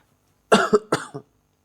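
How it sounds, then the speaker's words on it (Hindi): Three or four harsh coughs in a quick burst, close and fairly loud, with silence before and after. "मेरी खांसी का कुछ कर लो यार सब।"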